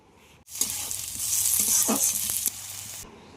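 Chopped onions and tomato sizzle and hiss loudly in hot oil with cinnamon, cloves and cardamom, stirred with a few scraping knocks, close and steady with no talking.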